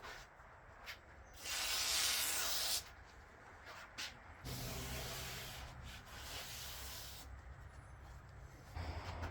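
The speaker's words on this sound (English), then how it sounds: "I'm gonna spray a little WD-40 on this thing" WD-40 sprayed onto a DeWALT table saw near its miter lock knob gives a steady hissing burst of a couple of seconds, framed by light handling clicks and rubbing before and after.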